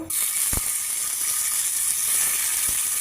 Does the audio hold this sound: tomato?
yes